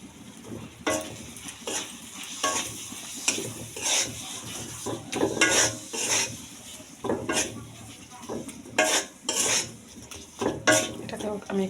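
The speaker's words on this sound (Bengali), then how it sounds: "এটাকে আমি একটু ভালোভাবে কষিয়ে নেব।" Chicken sautéing in a pan with chili, coriander and cumin powder: a spoon repeatedly scrapes and clatters against the cookware over a soft sizzle, in irregular bursts of stirring.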